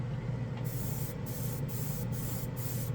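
An airbrush sprays chrome paint at around 18 to 20 psi, giving a soft steady hiss broken by a few quick on-off bursts, with a low background hum beneath and no talk.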